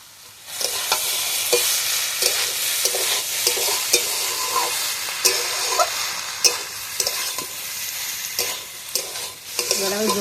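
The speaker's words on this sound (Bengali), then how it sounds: "এবার আমি ভেজে রাখা চিংড়ি মাছটা দিয়ে দেবো।" Fried prawns stirred into a thor and pumpkin curry in a pan, loud sizzling with repeated scraping stirs and spatula clacks in an uneven rhythm, close and continuous without talk.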